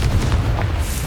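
Confringo fire spell blasting in the Hogwarts Legacy video game, a deep, rolling explosive boom with heavy low rumble that fills the whole second at steady loudness.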